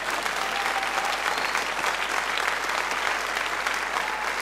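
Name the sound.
congregation applauding in church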